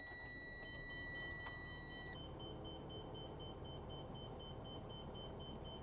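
Collision avoidance sensors on a 2022 Renegade Verona LE 40LRB RV starting up: several steady high electronic tones and short beeps sounding together for about two seconds, then a fainter repeating pulsed beep over a constant low rumble.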